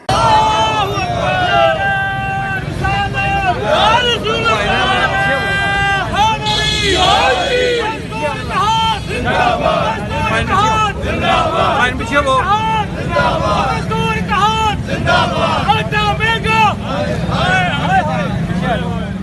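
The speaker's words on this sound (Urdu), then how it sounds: "اس موقع پر شدید نعرے بازی بھی کی گئی" Workers of a local government union chant slogans at a rally against inflation, a loud continuous crowd of voices with rhythmic shouted calls and responses throughout.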